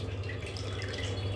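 Water dripping and trickling back into a bowl of cold water as spinach leaves are lifted out, a soft continuous patter close by over a low background hum.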